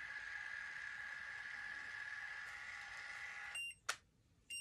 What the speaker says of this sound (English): So it actually beeps when it finished curling your hair.